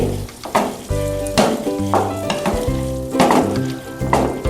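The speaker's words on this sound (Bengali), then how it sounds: "ভালো করে নাড়িয়ে দেব" Cucumber curry frying in a pan and being stirred, with bursts of sizzle and scraping over a strong tonal hum and some bright clanks.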